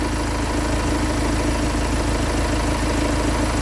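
A van engine idles steadily at about 800 RPM, a constant low rumbling drone close by with no variation or other sounds.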